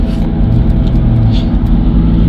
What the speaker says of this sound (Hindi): ओवरटेक कर रहे हैं।